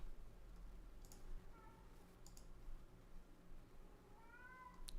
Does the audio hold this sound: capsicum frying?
no